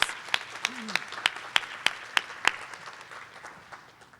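Scattered, sparse claps from a small audience at a Goodwill awards breakfast, about nine distinct hand claps spaced out over a few seconds and trailing off into quiet room tone.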